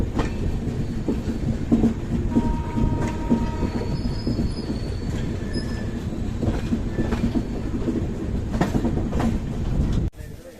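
The ASR CSMT Express (11058) runs on rails between Ludhiana and Delhi, with a steady close rumble, rhythmic clickety-clack and squealing wheels that carry on for several seconds before stopping abruptly near the end.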